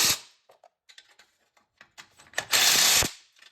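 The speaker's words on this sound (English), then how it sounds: "Yeah, I gotta tighten this." Ratchet wrench tightening exhaust seal bolts on a BMW 535Xi wagon, sparse quick clicks followed by a louder burst of rapid ratcheting, close and without talk.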